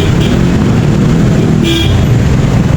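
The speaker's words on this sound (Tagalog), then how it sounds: "Traffic pa rin mga kaibigan, oh." Road traffic jam in the Philippines, a loud, dense wash of engine rumble and road noise with a short car horn toot near the middle, close and continuous.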